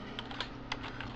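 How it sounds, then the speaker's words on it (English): A name is typed on a computer keyboard, a quick run of several close, light key clicks in an uneven rhythm over a quiet background hum. "Then we type in our name."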